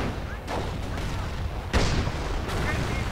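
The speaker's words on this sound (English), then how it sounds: "Hotchkiss Delight being prepared and fired." An anti-tank gun fires in a World War II strategy game, a couple of deep booms over a dense rumble of battle noise and distant gunfire, with a voice talking over it.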